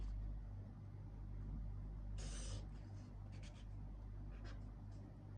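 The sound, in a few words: drawing a line with a pen on paper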